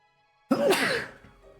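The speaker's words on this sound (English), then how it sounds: "I have to sneeze." A single sharp sneeze bursts out close and loud after a silent start, then tails off into a quieter exhale.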